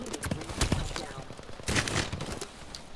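Gunfire in the Apex Legends video game, a short burst of rapid shots followed by a second volley, moderately loud amid other game sounds.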